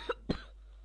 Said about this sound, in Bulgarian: Сори, че кашля, но съм болен